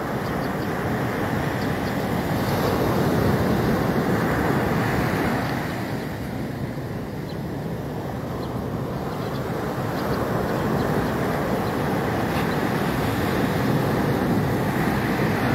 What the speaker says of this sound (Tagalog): Sarap lang pakinggan nung sounds nung alon